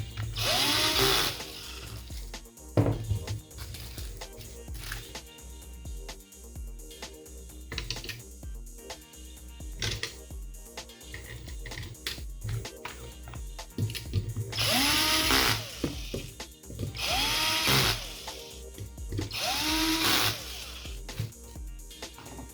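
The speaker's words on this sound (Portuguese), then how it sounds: "Eu vou apertar com a parafusadeira aqui, mas pode apertar tranquilo na chave de fenda." An electric screwdriver drives four screws while a gaming PC with a Xeon 2690v3 kit is assembled. Several short whirring bursts rise and stop, with clicks and handling noise between them, close by and with no speech.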